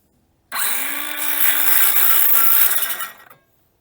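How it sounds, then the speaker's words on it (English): Power saw cutting through wood on a dog-damaged door, a single continuous loud whining cut of about three seconds that starts abruptly and stops cleanly, with no voices. "Now we'll straighten our saw back up. And we'll do some more of this cut right here."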